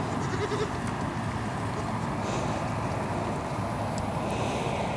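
Goats at a farm goat yoga session bleat and rustle around amid steady wind-like background noise, a continuous, fairly close mass of animal sound with no clear voices.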